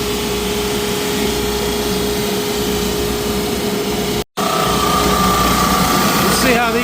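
A sander runs continuously as pieces feed through it, a steady whining motor hum with a brief interruption partway, heard up close.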